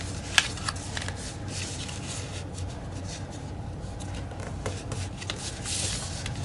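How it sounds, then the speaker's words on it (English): Paper is creased and folded by hand into a paper airplane, soft rustling and rubbing with a sharp crinkle or tap near the start, faint and close, no voices. "So let's take this corner and fold it right down to there."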